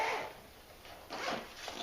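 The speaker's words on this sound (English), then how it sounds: "There's a zipper opening on it." Zipper on a synthetic carry bag for a steel light stand being pulled open, a soft ragged rasp in short bursts, close and fairly quiet with no talking.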